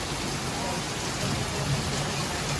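Heavy rain pours down at night, a steady dense hiss filling the whole stretch at close range, with a faint voice now and then beneath the downpour.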